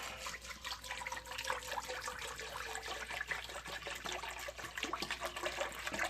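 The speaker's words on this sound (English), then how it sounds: "we have a medium-sized stock pot, sauce pot, a gallon of water, and our herbs. Dump all that in the pot." A gallon of water pours into a medium stock pot along with herbs, a faint, steady splashing trickle that runs unbroken for several seconds.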